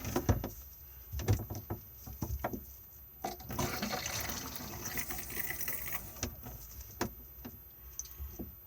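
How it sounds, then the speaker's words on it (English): Water drains from a pull-down basin in a 2021 Auto-Sleeper Warwick Duo motorhome: light clicks and clatters, then a few seconds of gushing pour that tapers off, all close by and fairly quiet. "pouring it away nice and steadily to drain the water"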